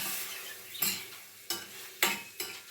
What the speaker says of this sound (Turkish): Bunu güzelce kavuracağım.